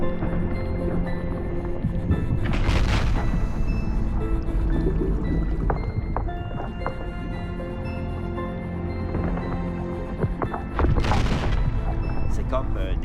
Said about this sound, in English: The icebergs around us creak and rumble, like thunder.